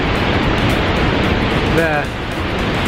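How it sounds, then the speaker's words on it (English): A waterfall in Yosemite National Park, just above its drop, produces a loud, constant roaring rush of water. A voice briefly speaks over it. "This is the waterfall that we were at the top of, trying to cross that bridge"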